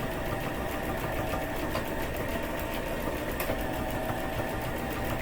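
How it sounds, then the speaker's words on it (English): Sewing machine stitching back and forth across a quillow, a steady mechanical whir with faint rhythmic ticking, close and continuous throughout. "Stitch back and forth."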